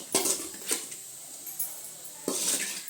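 Onion and tomato being stirred in a paniyaram pan for kara kuzhi paniyaram, heard as a few separate metallic scrapes and clinks of a spoon against the pan, sparse and fairly close, with no talking.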